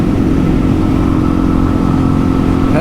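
Suzuki DRZ400E motorcycle with an aftermarket exhaust and tuned carburettor pulling hard under acceleration, a loud, close, continuous engine drone with wind noise, heard from the rider's position.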